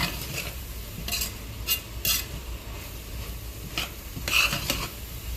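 Spoon stirring spices and smoked paprika into turkey chili in a pot, with soft scraping, a few clinks against the pot and a faint sizzle underneath.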